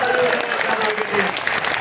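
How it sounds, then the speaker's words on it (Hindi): A crowd at a teachers' mass assembly in Saharanpur claps with raised hands, a broad wash of applause running throughout while a voice continues speaking over it. "हाथ ऊपर करके बजाओ जरा ताली जोर से"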